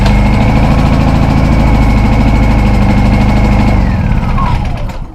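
A boat generator engine runs steadily after starting, a loud, even mechanical drone with a constant hum that fades slightly near the end.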